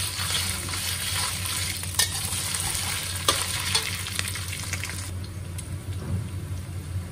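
Pork marinated in soy sauce and corn flour stir-fries in a pan with garlic, a steady close sizzle punctuated by clicks and scrapes of stirring throughout.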